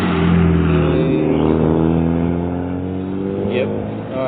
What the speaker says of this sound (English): Now there's new cars coming by